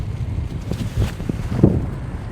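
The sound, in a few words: strong wind outdoors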